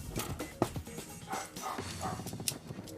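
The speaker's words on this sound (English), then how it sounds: "And if you hear my dog barking in the background" A dog barks in the background of a Lego Bionicle set review, giving several faint yips and barks under a steady room murmur.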